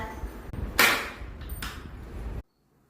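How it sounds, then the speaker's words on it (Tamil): Knocks on a door sound as a couple of sharp, loud raps close by in a quiet room, then the sound cuts off abruptly into silence. "யாரு அது சும்மா தட்டிட்டே இருக்கிறது கதவை?"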